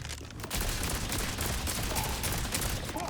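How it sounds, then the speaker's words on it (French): Dense, continuous barrage of rapid gunfire from the video game Borderlands 4, loud and sustained with overlapping shots and no voices. "Ça tire de partout."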